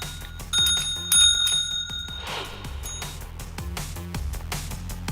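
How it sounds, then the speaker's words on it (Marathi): A cat strikes a small metal bell set on a table, asking for more food once its plate is empty; the bell rings loudly several times in quick strikes, with light background music running under it. "या मांजरीच्या ताटातील खाद्य संपल्यानंतर ती घंटी वाजून पुन्हा खाद्य मागताना दिसत आहे."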